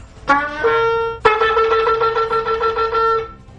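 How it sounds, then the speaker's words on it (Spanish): A shofar sounds close and loud: one short opening blast, then long sustained horn notes with a slight wavering pulse, heard alone with no talking. "Terúa son 9 notas pequeñas en rápida sucesión"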